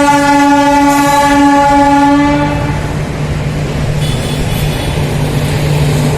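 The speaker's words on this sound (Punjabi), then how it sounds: "ਫਾਟਕਾ ਦੇ ਇਧਰੋਂ ਆ ਗਈ ਟ੍ਰੇਨ ਸਾਨੂੰ ਕਰਨਾ ਪੈਗਾ ਵੇਟ" A train passes a railway level crossing in Ludhiana, its loud horn sounding steadily for about two and a half seconds before giving way to the continuous rumble and clatter of rail cars rolling by nearby.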